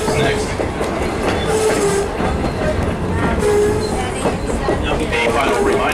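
Heritage passenger train rolling on rails through Lancaster County farmland, with a steady close rumble, rhythmic clickety-clack of wheels and occasional faint squeals, continuous throughout while muffled voices murmur in the carriage.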